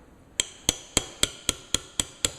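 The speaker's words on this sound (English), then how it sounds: "So what I'm going to do is I'm going to use it very carefully, use a hammer, very carefully." A hammer taps a punch to drive a pin out of a Desert Eagle .41/.44 Magnum pistol during disassembly, giving eight sharp, evenly spaced metallic strikes, close and clear with no talking.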